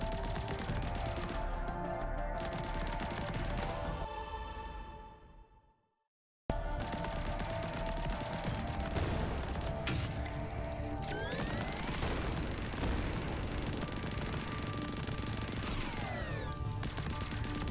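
Rapid bursts of gunfire and repeated explosive crashes from grenades in the Greedland video game fill a dense, loud stretch, breaking off into a moment of silence before the clamor resumes.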